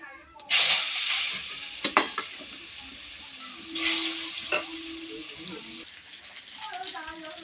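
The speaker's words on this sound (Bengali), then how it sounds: "তেলটা গরম হয়ে গেছে, 5 ফোড়ন দিয়ে দিচ্ছি। এই যে আমগুলো দিয়ে দেবো" Mangoes and five-spice tempering hit hot oil with a loud burst of sizzling that continues under stirring, with a few clanks of a utensil against the pan and someone talking over the cooking.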